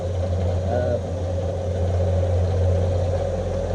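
Vertical milling machine running near 800 RPM, giving a steady low mechanical hum with a faint tonal whine that holds even throughout, up close.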